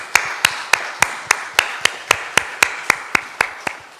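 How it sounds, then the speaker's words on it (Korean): One person in a church congregation claps slowly and evenly during a Sunday service, about fifteen sharp, distinct claps at a steady rhythm, close and clear over a quiet room. "이들을 위해서 감사의 박수 한번 하겠습니다"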